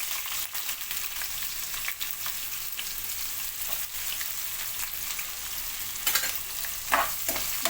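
Onions frying in a pan for an aloo tomato curry, a continuous close sizzle with scraping stirs, growing louder in a few sharp strokes near the end.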